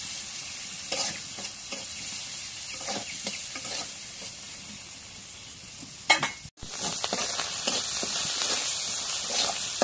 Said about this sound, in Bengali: সব কিছু তেলের মধ্যে ভাজে নিই।